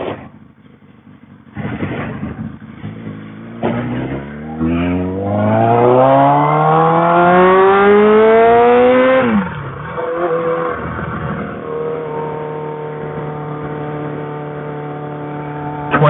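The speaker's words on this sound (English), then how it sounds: "But you can enjoy the sounds of the Katana." A 1999 Suzuki Katana 600 inline-four motorcycle engine riding in traffic, revving up through the gears with a rising whine, easing off, then settling into a steady drone, loud and close with no talk.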